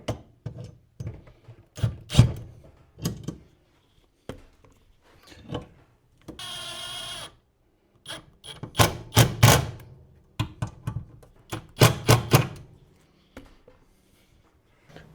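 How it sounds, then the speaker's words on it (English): Torx-head wood screws driven into an exposed wall stud, heard as a series of sharp close knocks and taps, with one short buzzing burst of a powered driver in the middle. "I just have these wood screws with the Torx head. I'm just gonna go put these into the stud."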